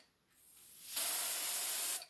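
Spray adhesive glue hisses from an aerosol can onto the back of a fabric appliqué, one close, loud burst about a second long after a softer lead-in.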